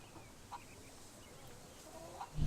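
Faint, sparse chicken clucks from a chicken race in the Fable 3 video game sit low under a steady game ambience, with a couple of brief soft clucks.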